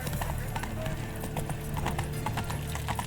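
Horse hooves clip-clopping in a quick, steady trot in The Witcher 3 video game, with a voice speaking over the hoofbeats.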